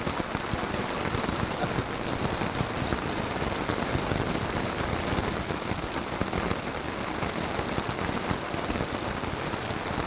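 Heavy rain, mixed with some hail, pounds a tarp in a forest campsite in Tyresta National Park, a loud, dense, unbroken drumming that holds steady throughout with no voices.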